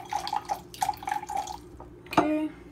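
Water splashes and drips into a bowl for soda gummies, a series of small, close bright plinks ending in a single louder clink.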